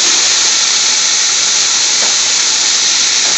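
Three large chopped onions hit a hot pan for a restaurant-style spinach saag curry, giving a loud, steady broadband sizzle that holds evenly throughout with no pauses.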